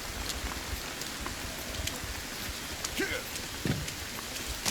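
Rain patters softly and steadily in the survival video game Sons of the Forest, with a faint crackle and a few brief voice sounds over it.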